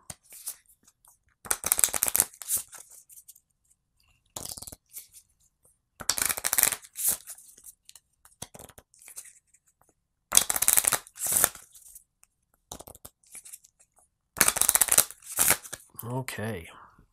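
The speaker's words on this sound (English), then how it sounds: "I'll have to shuffle these back up." Repeated bursts of a card deck being riffled and shuffled close by during a game of Aliens Bug Hunt, separated by short pauses, with a brief voice at the end.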